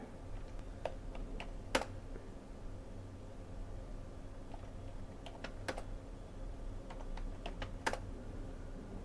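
Keys clatter on a computer keyboard while a value is typed into an Excel spreadsheet, sharp close clicks in short bursts with brief pauses over a faint steady hiss.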